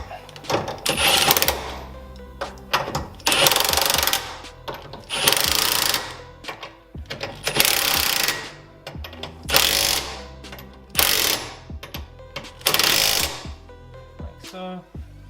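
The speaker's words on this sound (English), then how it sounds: "Now, rattle gun, a little bit by" Impact wrench (rattle gun) fastening a Hardrace lower control arm on a DC5 car build, firing in about eight loud, close bursts of rapid hammering, each lasting roughly a second, with short pauses between them.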